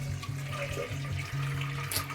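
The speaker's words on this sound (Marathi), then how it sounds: "आणि आता ती गाळून घ्यायची, कारण त्याच्यामध्ये पाणी आहे, तर ते पाणी आपल्याला काढून घ्यायचं आहे" Water from cooked dal pours through a strainer, a steady trickling drain with small pulses and splashes as the lentils are sieved, fairly close and uninterrupted.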